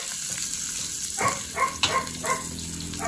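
Fish fries in hot oil, giving a quiet background sizzle with a few louder crackling pops near the end and no talk.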